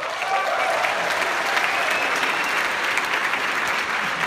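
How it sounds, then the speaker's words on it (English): Steady applause from a large crowd at a PAX Australia 2014 panel, continuous clapping that stays at an even level throughout. "Round of applause for yourself"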